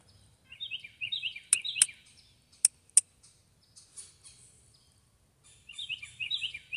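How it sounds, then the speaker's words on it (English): Birds chirping inside a birdhouse: clusters of busy high tweets at the start and end, broken by a few sharp clicks or taps in the middle, fairly close and otherwise quiet. "The birds inside were making noise too."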